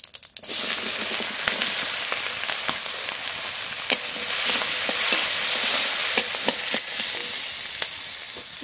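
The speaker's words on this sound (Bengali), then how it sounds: "মোচা ভাজা করব, তার জন্য কড়াইতে ফোড়ন করে নেব" Steady sizzling of whole cumin and chopped onion frying in oil in a wok, with occasional sharp crackles and stirring scrapes, continuous and close.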